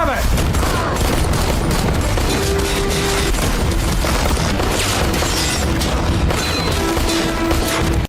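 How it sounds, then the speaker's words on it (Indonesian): A film fight scene in which henchmen open fire: bursts of gunshots, booms and crashing impacts pile into a loud, continuous barrage with a voice speaking over the action. "menyuruh anak buahnya untuk menembaki Danny"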